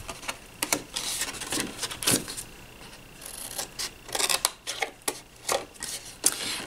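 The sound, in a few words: cutting paper squares off a gift card box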